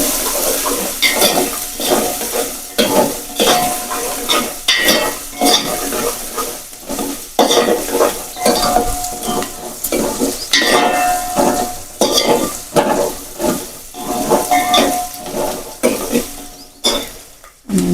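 Onion, curry leaves and asafoetida sauté in a pan for a sabzi, with a steady sizzle broken by repeated scraping strokes of a spoon against the metal, close and fairly loud, and no one speaking.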